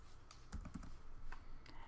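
Quick, light keystrokes on a computer keyboard, a soft irregular patter of clicks close by over about two seconds.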